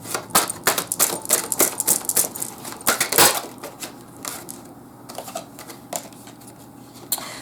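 Tarot cards shuffled to draw another card give a rapid, uneven patter of crisp flicks and slaps, close and dry, thinning out toward the end.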